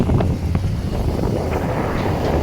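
Steady, loud wind buffeting the microphone in a continuous low rumble, with faint background noise underneath and no talking.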